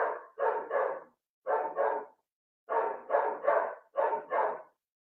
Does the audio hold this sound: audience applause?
no